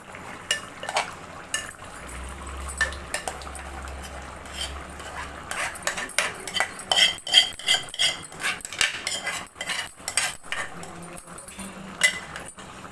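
A spoon scrapes and clinks around a metal pot, stirring cooked lentils into chayote kootu in steady, uneven strokes with occasional louder knocks against the rim.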